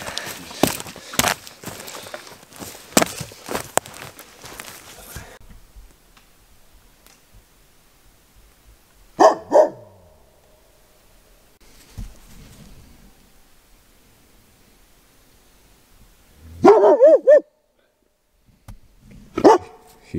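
A dog at a winter camp in a tarp shelter gives a quick run of sharp barks, then a few isolated bursts after long quiet gaps, close and loud, with a voice speaking in between.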